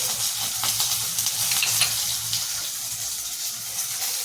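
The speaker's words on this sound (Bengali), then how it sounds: "আলু ভাজা ভাজা হয়ে গেছে" Potato pieces fry in hot oil in a pan with a steady, close sizzle and crackle that carries on unbroken, with a few brighter pops and spatters.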